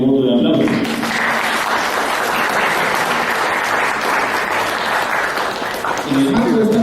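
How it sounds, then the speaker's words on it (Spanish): Audience applause following an academic conference talk on civil and political rights under Peru's 1993 Constitution, a sustained, dense burst of clapping from a sizable room lasting several seconds, with a voice heard at the start and end. "le brindamos por favor un fuerte voto de aplauso"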